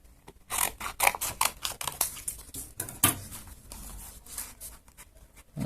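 Scissors snip through paper for a paper head sculpture in a quick series of short, crisp cuts close by, with brief pauses between them.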